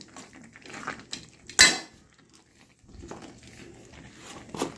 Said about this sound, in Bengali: আমার সবজি হয়ে এসেছে, একটু নাড়াচাড়া করে নামিয়ে ফেলবো।